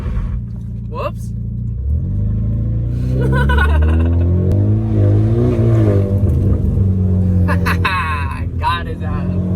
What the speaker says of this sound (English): Why wouldn't you want to do a donut?